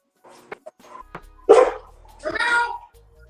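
Several dogs barking indoors in short, loud bursts, with a couple of sharp yips before a heavier run of barks near the end, and a low hum underneath.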